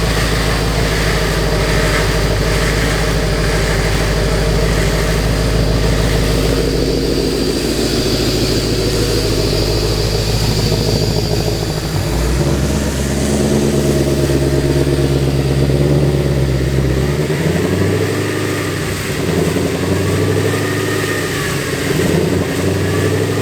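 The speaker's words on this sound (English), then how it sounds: "Then I'll keep driving it to let the tires warm up." A 1000-horsepower drag car drives slowly to warm its tires, its engine holding a loud, close rumble that steps up and down in pitch through gear and throttle changes for over twenty seconds, no talk.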